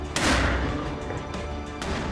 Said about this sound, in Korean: 가슴이 웅장해지는 대포 소리.